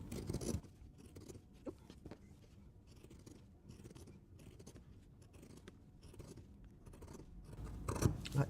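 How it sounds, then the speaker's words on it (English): Pinking shears trimming around a fabric circle for a reusable bowl cover, a quiet close series of irregular crunchy snips and scraping cuts with no talk. "the zigzag of the pinking shears will make sure that you don't get too much bulk. So trim this all around."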